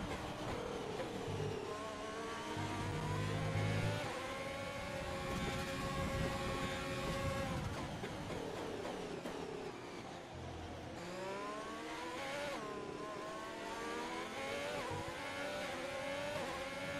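Formula 1 race cars in the F1 2020 video game accelerate back up to racing speed, a steady, loud engine drone whose pitch sweeps upward through gear changes over the whole stretch, with no talking.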